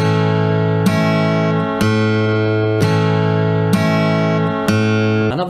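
Acoustic guitar plucked softly near the edge of the sound hole, playing the Mull of Kintyre intro: six evenly spaced, ringing strums or plucked chords about once a second, close and clear with no voices.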